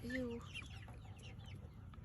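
Chickens cluck close by while waiting to eat emerging cicadas, a short throaty call up front, then scattered soft clucks and chirps over a low background hum.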